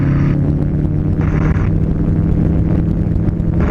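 A gyroplane engine and rotor running at full power during takeoff, a steady droning roar with wind buffeting the microphone throughout, near and continuous with no talk.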